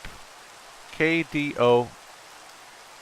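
Steady hissing rain falls on a Minecraft island, a soft, constant wash that runs through the whole clip while someone speaks briefly over it.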